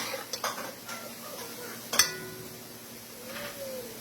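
Mango chutney (kuchila) fries in a pot as a spoon stirs it, giving quiet scraping, light clinks and one sharp metallic clank against the pot.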